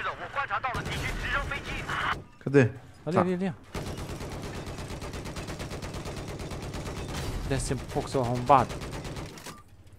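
Rapid gunfire in the video game Battlefield 4, dense bursts of automatic shots rattling almost the whole way through, with a voice talking in Portuguese over it and short gaps where the firing pauses.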